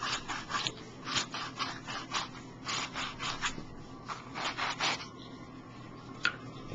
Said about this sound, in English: sanding this a lot like that